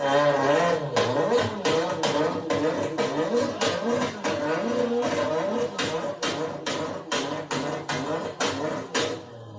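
Car engine revving in place while stationary, a long series of sharp, loud rev bursts repeated in quick succession, close and unaccompanied.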